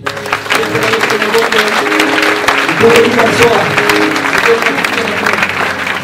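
Church congregation in Brazzaville, Congo applauding and cheering for Jesus during a worship service, steady dense clapping and crowd noise throughout, with voices and music mixed underneath.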